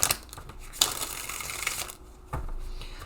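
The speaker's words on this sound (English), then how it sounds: "I'll give these a proper shuffle." A deck of tarot cards gets a close shuffle, with crisp riffling bursts and card-on-card slaps broken by short pauses, loud and near and with no voices.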